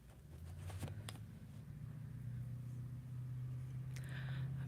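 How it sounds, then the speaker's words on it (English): A loud car or truck passes outside, a low steady engine rumble that builds gradually over several seconds, heard faintly from indoors with a few small clicks and rustles nearby. "This loud car, holy crud."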